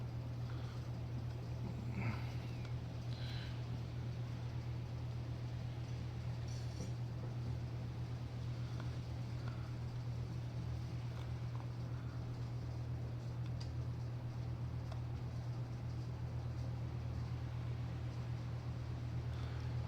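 A SkyProdigy telescope mount motor runs at an adjusted speed as a steady, low, continuous hum that holds level throughout, faint and alone with no talking.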